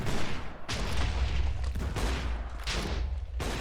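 Gunfire from a video game gun attack aimed at a desert cannon boss, heard as a rapid burst of shots and booms with several loud bursts in quick succession.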